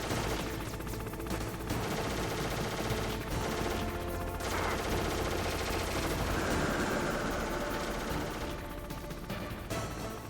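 Rapid bursts of gunfire aimed at a missile in the Metal Gear Solid video game, dense and continuous throughout over a loud backdrop of game music and effects.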